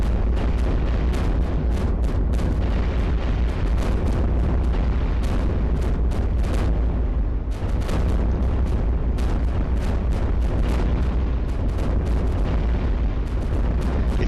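Waves of bombs burst in the iBomber Defense video game, a dense, continuous barrage of loud, booming explosions rolling one into the next, with sharp cracks and heavy rumbles and no talking.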